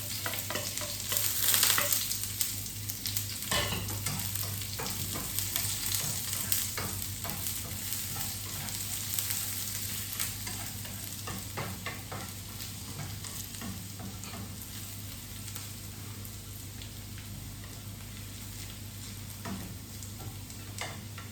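Chopped garlic frying in hot oil while being stirred for a Filipino breakfast fried rice, a continuous sizzle broken by frequent scraping and clacking of a utensil against the pan, close and steady with no talking.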